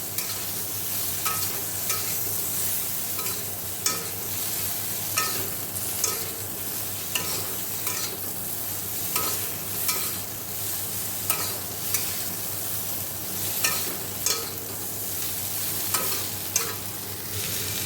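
Fish and cauliflower fry in a pan, a steady oily sizzle running throughout with repeated scraping strokes of stirring at a regular pace, close and moderately loud with no talk.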